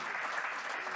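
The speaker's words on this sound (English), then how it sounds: "Keep that applause going for Kika." Applause from a seated audience at a business event honoring entrepreneurs, a steady wash of many hands clapping at an even moderate level, with no voices on top.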